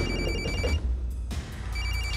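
A telephone rings indoors in a Telugu film scene, its bell trilling in two clear bursts with a short gap between them over a low background hum.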